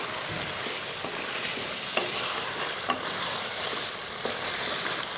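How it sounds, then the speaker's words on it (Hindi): Chicken and chana dal frying together in a pot: a soft, even sizzle with a few faint scraping stirs and light ticks at low volume, with no voices. "हमारा जो चिकन और दाल बहुत अच्छे से फ्राई हो गया है"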